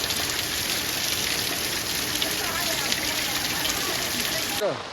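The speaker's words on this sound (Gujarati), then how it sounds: "હા આમ વરસાદ આવે છે" Steady rain pours down over a farm field in a dense, even hiss, close and fairly loud throughout, with a faint murmur of voices underneath.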